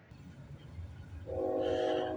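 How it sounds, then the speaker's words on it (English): A CN westbound freight train rumbles past at night, then its horn blares loud and sustained over the low rolling of the train. "we got a CN westbound train coming down the line"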